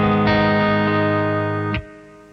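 Electric guitar through a Revv G2 distortion pedal with gain at full, played on the neck pickup for a bassier tone: a loud sustained distorted chord that rings, then cuts off abruptly with a brief pick scrape.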